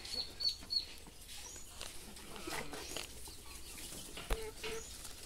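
Chickens clucking on a small rural farm, soft scattered clucks and a few brief wing flaps at moderate distance, fairly faint amid outdoor background noise.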